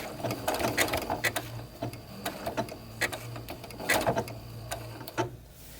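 A sewing machine fitted with an F foot stitches along the edge of an applique block, making irregular clicking bursts of stitches over a low motor hum, with brief pauses between runs.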